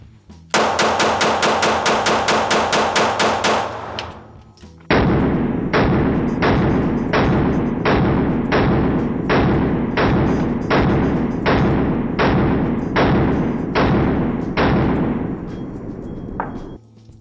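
A Canik Prime Radian pistol fires during break-in with an extended magazine. A quick string of sharp reports comes first, then a slower, evenly spaced series of about a dozen loud, close shots.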